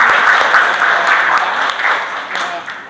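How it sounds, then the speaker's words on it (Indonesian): A classroom of students claps together in a dense burst of applause that fades gradually, with some voices mixed in. "Beri aplaus buat semua."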